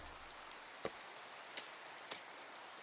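Steady soft rain hiss in Minecraft fills the background at low level, with a few faint sharp drip-like ticks scattered through it.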